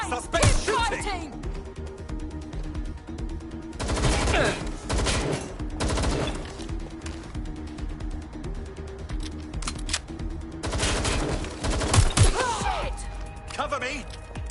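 Gunfire in the video game Watch Dogs Legion: repeated sharp bursts of shots and crashes, some in rapid volleys, ringing out over a background of in-game shouting and voices.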